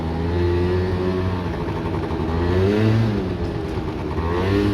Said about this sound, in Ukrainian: двигун працює гарно, ніяких посторонніх шумів немає.